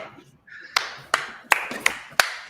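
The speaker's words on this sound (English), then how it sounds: "Love a slow clap." Slow clap from a single person: five sharp, widely spaced hand claps that come slightly faster as they go. A brief voice sounds just before the first clap.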